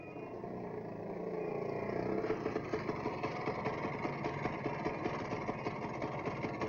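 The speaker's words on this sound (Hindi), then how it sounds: "मोटरसाइकिल बिगड़ गई है" A broken-down second-hand motorcycle engine idles roughly, with a steady, uneven pulsing chug that swells slightly at the start and then holds close and fairly loud; no one speaks.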